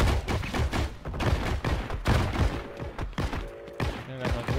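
Gewehr 43 rifle fire in Heroes & Generals, a loud, close run of sharp gunshots in rapid succession, with game tones sounding in the gaps near the end.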